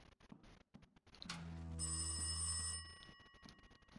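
Telephone ringing in the video game Rise Of Insanity, a single bright ringing burst lasting about a second and a half, surrounded by quiet ambience.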